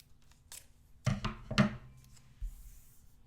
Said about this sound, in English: I cut these 2 little pieces first, and then I kind of fold this up so that then I'm able to cut this little flap apart.